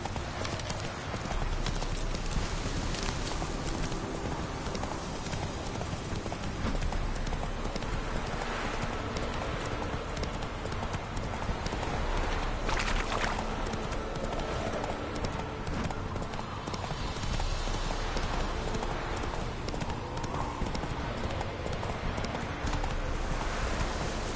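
Roach the horse gallops in The Witcher 3, a continuous dense drumming of hooves against a loud, busy game soundscape. The hoofbeats carry on steadily throughout with no voices on top.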